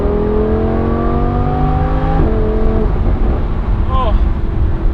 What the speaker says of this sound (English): We'll do a little downshift here and give it some beans again.